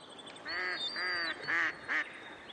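Pacific black duck quacking in a run of four loud, nasal quacks close by, the calls coming in uneven bursts with short gaps between them.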